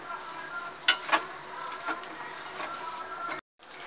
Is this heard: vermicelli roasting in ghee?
yes